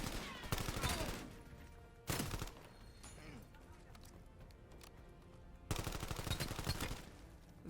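Gunfire from headshots in the video game Black Ops 7, dense loud bursts of shots in several clusters over continuous game noise.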